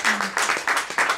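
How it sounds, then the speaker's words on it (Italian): Applause at an Italian award ceremony, heard as a short run of rhythmic group claps in about four even pulses, close and fairly loud, with a voice briefly underneath. "però un applauso"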